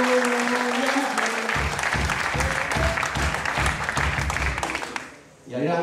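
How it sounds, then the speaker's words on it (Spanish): Audience applause at a live full-band concert in a café, a broad clapping wash running under a sustained instrumental tone and a steady rhythmic beat, then fading out near the end as a voice comes back in. "Un aplauso para el mejor servicio."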